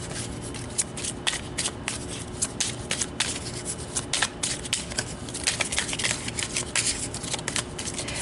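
Tarot cards being pulled and shuffled by hand, a continuous close papery riffling and rubbing with quick flicking bursts throughout, no voices.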